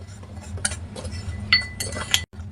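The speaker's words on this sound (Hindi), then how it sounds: "सबसे पहले आपको इन चारों मतलब सभी जितने भी पाउडर्स हैं इनको अच्छे से मिक्स कर लेना है" Spoon stirring herbal powders, including kalonji powder, together in a bowl: irregular light clinks and scrapes of metal against the bowl, with a few sharper taps, close and clear.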